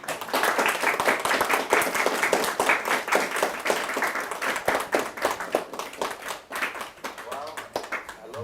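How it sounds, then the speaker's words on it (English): An audience at a Sunday church service for teenagers claps steadily, a dense patter of many hands filling the room, with a voice speaking over the applause. "Let's clap for them."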